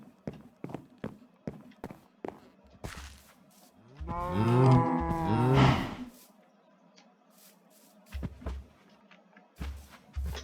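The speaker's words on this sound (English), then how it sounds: "Kinda want to improve the cow farm." Cows on a Minecraft cow farm give a loud, drawn-out moo in the middle, framed by scattered soft thumps and footstep-like clicks before and after, with no speech.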